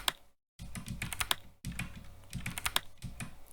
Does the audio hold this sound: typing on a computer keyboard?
yes